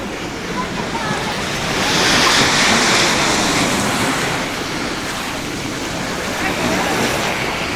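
Surf breaking on a beach in Panama at high tide, a steady broadband wash that swells around the middle and settles again, close and continuous with wind rushing over the microphone.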